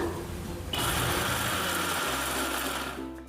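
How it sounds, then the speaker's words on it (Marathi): A mixer grinder whirs as it finely grinds poha, starting up sharply after a softer stretch, holding a loud steady motor drone, then shifting pitch and winding down; no talking. "आता हे बारीक करून घेते"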